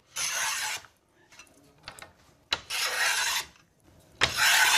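A hand plane works ebony on a snooker cue, rounding it off: three close rasping strokes, each lasting under a second, separated by short quiet pauses with faint handling clicks.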